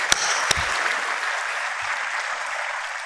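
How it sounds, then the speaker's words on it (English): Steady applause fills a conference hall at an international symposium on phosphate innovation, a dense, even wash of clapping from a sizable audience with a couple of sharp knocks near the start. "please, a round of applause"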